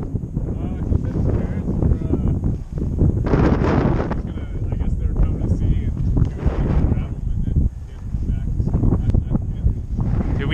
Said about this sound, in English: We never get wind like this in El Paso